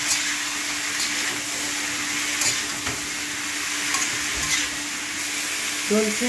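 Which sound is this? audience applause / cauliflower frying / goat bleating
cauliflower frying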